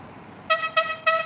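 Horn of a boat noodle vendor's boat on a Thai waterway sounds three times in short, evenly spaced toots, each a bright, tonal honk, fairly close and clear above quiet background.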